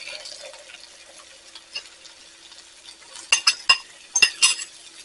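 Four eggs stirred into a breakfast stuffed bell pepper filling: soft scraping and swirling that builds into several sharp spoon-on-bowl clinks near the end, close and fairly quiet, with no talking.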